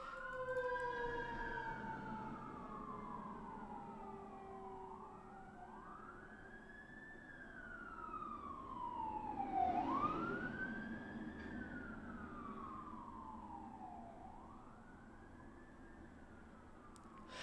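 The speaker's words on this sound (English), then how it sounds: "There are police sirens going on in the background." Several police sirens wail in overlapping rising and falling sweeps, distant and faint, swelling slightly as they pass, with no talking.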